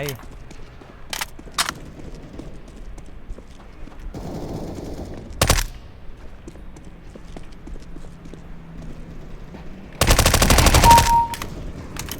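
Suppressed MP5-SD fire in CS:GO. Short isolated cracks and one longer sustained burst come near the end, with game footsteps and ambient noise between them and people talking in the background.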